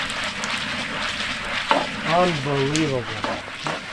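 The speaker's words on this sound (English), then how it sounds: "Right here, big kettle over a fire." Kettle corn stirred in a big kettle over an open fire outdoors, with a steady frying sizzle and scraping stir strokes, while a person speaks briefly over it.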